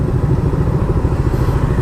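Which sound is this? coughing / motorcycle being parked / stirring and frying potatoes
motorcycle being parked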